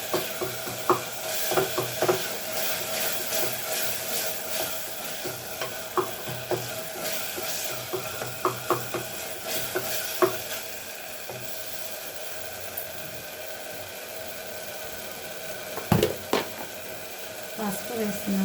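Tomatoes fry in a pan for a village-style bottle gourd curry, with a spoon clattering and scraping rhythmically against the metal over a soft sizzle, while a voice speaks now and then.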